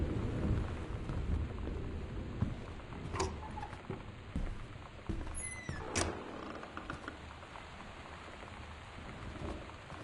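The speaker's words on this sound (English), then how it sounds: "the storm really doesn't help matters" Steady rain with rolling thunder from a stormy night in the exploration video game Gone Home, including a sharp crack near the middle over a continuous wash of rainfall, with no one talking.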